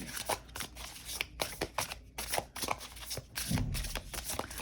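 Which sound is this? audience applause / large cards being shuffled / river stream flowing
large cards being shuffled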